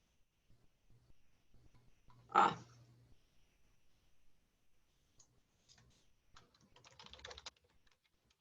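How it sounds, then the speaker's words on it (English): Quiet typing on a computer keyboard: scattered soft key clicks, one louder knock early on, and a brief faster burst of keystrokes near the end, heard close in a quiet room. "I'm typing."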